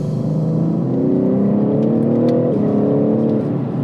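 A 2021 BMW M3's S58 engine revs steadily with rising, layered harmonic tones, loud and close, with a brief dip before climbing again.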